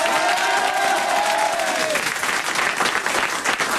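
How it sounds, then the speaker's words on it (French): Loud audience applause and cheering in a television studio, used as a vote for a contestant, with a sustained crowd roar and a brief whistle or tonal cry early before the clapping continues. "C'est Marisol, elle était plus applaudie là, hein?"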